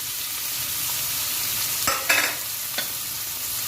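Finely chopped onions fry in a pan with a steady, hissing sizzle, broken by a few brief clinks and scrapes near the end.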